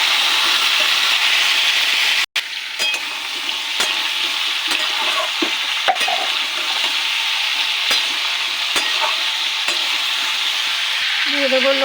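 Potato, pumpkin and green chillies fry together in a pan for a pumpkin and bori curry, giving a loud, continuous crackling sizzle with scattered clicks and scrapes of a spoon stirring.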